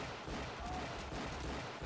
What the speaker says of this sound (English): He won't stop shooting until you fall down.